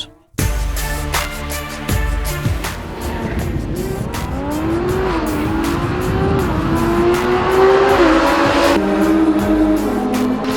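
An Audi R8 and a McLaren 570S drag racing on warmed tyres, engines roaring loudly from launch with rising revs, gear shifts and some tire squeal, staying close and intense throughout.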